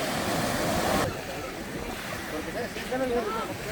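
Water sloshes and splashes as someone wades through shallow, warm sea surf in Mexico, with waves washing nearby and gusts of wind buffeting the microphone.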